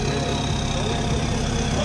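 A Mahindra Scorpio N SUV idles steadily just after a cold start in snow, its low, even engine rumble close and continuous with no clear gaps.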